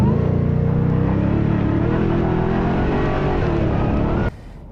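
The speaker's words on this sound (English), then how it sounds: "In this, you hear really just more of that raucous exhaust note in the back than you hear supercharger whine." The supercharged V8 exhaust of a 2023 Ford Raptor R roars loud and close in a raucous, continuous drone for about four seconds, then cuts off abruptly.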